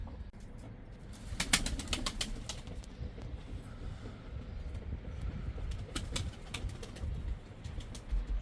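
A racing pigeon flapping its wings hard as it comes in to land, with bursts of rapid wingbeats and a few soft coos outdoors, fairly close and alone without talk.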